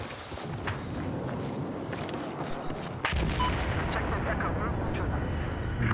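Battlefield 4 Naval Strike carrier assault on Operation Mortar: dense, continuous battle din of explosions and rapid gunfire, loud throughout and swelling sharply halfway, with a voice talking over it.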